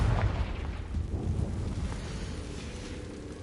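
The Confringo explosive spell from Hogwarts Legacy sets off a deep rumbling blast at the start, and a low, booming roar then fades slowly under windy noise.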